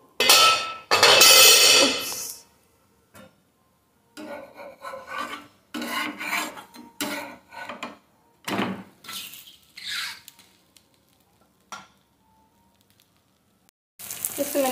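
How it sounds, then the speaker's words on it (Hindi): Lauki (bottle gourd) dish being flipped in a frying pan, with harsh scraping and rasping bursts of the spatula against the pan mixed with sizzling, arriving in short irregular strokes separated by brief pauses. "अब मैं इसको पलट दूँगी"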